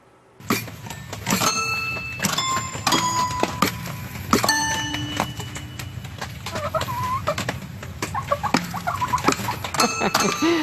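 A flock of chickens, introduced as a German group, clucks and squawks close by in repeated bursts, some high and drawn out, over a steady barnyard background.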